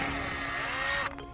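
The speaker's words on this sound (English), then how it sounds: "Get your drill right through," A power drill whines loudly and steadily while boring a hole through a car seat, then cuts off abruptly near the end with a couple of short trailing sounds; no talk.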